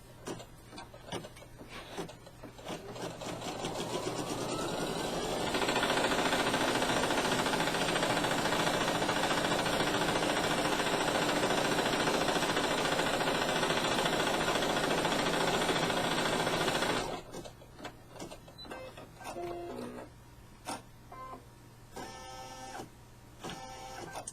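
An embroidery machine stitches around the outline of an appliqué fabric piece, giving a loud, steady mechanical whir that rises out of quieter handling noise, holds for about twelve seconds, then cuts off abruptly.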